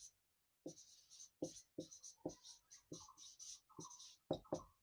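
Marker or chalk strokes on a board come in a series of short, crisp scratches and squeaks with brief pauses between them, close and clear, no voices.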